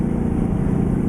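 Truck engine idling in American Truck Simulator, a steady low droning rumble with even texture, constant and fairly loud throughout, no voices.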